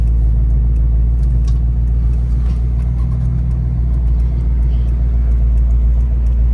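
A restored 1978 GMC Jimmy truck with automatic transmission drives along, its engine a steady, loud low rumble with road noise, heard from inside the cab without talk.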